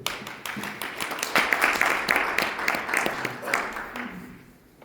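Attendees at a maritime union spring forum applaud as a union vice-chair is introduced, a sustained wash of many hands clapping that swells, then thins and fades out near the end.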